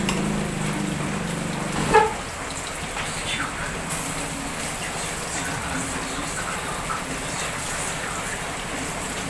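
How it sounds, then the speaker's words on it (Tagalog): Heavy rain pours steadily during Typhoon Ulysses, a dense, even hiss of water that holds throughout, with a brief louder splash or knock near the start. "Hala, lumalakas na naman yung ulan."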